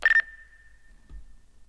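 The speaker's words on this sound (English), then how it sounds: "We of course got the Phonk phone ring sample." Phone ring sample in a phonk music track: a brief electronic ringing burst that leaves a long, fading single tone, followed by a soft low thump.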